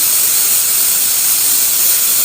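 A pressure cooker whistle releases steam while khichuri cooks: a loud, steady, continuous hiss with no pauses.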